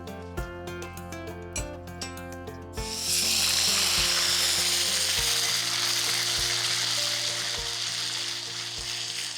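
Onion paste hits a hot pan and bursts into a loud, dense sizzle that holds steady to the end, after a few seconds of rhythmic thuds and knocks at the start.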